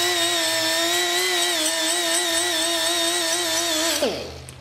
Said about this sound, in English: I'm going to use this power tool to make it a little bit faster.